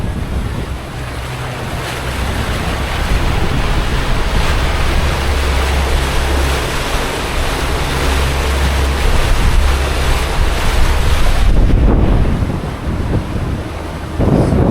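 A twin-engine Bulldog 43 boat with a jumbo hull runs at 1,500 RPM, a steady low engine drone under heavy rushing water and wind noise, loud and sustained with no talking.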